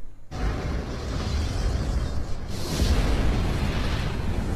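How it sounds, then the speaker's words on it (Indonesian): A door explodes in a film scene. A dense, roaring blast with crackling debris starts almost at once and stays loud, then surges again partway through. "tiba-tiba pintu meledak seketika dan melenyapkan Lee Jin di dalamnya"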